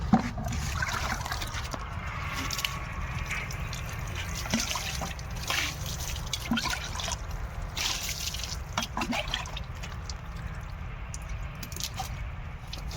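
Water splashes and trickles steadily from a bucket while a Thar is washed at home, a faint continuous wet sloshing with small drips and no voices.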